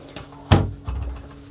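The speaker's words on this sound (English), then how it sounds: "it's just a cupboard with a glass door on it" A glass-fronted cupboard door aboard a SAY 52 motor boat gives one sharp close knock as it shuts, then a softer thud, in a quiet cabin.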